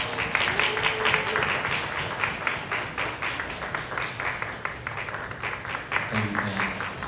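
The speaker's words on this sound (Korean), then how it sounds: "박수로 목사님 맞이하겠습니다" A church congregation applauds to welcome a pastor at a summer retreat, with steady, dense clapping that lasts the whole time, while a voice speaks briefly over it.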